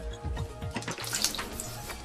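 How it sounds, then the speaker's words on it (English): A samurai sword blade is scraped across soft water-lubricated sharpening stones, giving faint wet rasping strokes with small watery splashes over a quiet background hum. "He scrapes it on soft stones which are lubricated with water, creating an incredibly fine point which could cut through armor."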